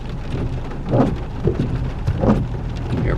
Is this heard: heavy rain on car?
yes